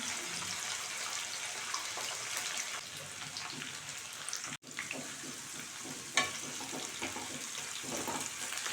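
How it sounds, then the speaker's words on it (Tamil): Onion and garlic sautéing in a pan for a village-style vatha kuzhambu, a steady soft sizzle with faint scraping and watery clatter, one brief dropout midway, no talk. "இப்போ வெங்காயம் பூண்டு எல்லாம் நல்லா வதங்கிடுச்சு"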